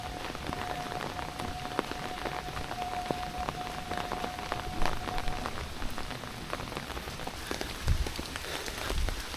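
Summer rain falls steadily in Matsuyama, Japan, a dense, even patter on surfaces with scattered louder drops. A faint tone lingers in the first half, and no one speaks.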